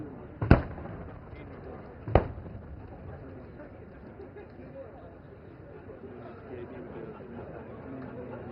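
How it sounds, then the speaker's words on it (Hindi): An Arjun main battle tank firing its main gun and BMP-2 vehicles launching Konkurs anti-tank guided missiles at an army exercise at Pokhran, Rajasthan: two sharp distant blasts a couple of seconds apart, then a low rumble under crowd chatter. "मेन बैटल टैंक अर्जुन अपने मेन गन से और BMP-2 सारथ अपने anti tank guided missile conquers के संगठित फायर से टारगेट ग्रुप 3 में दुश्मन के टैंकों"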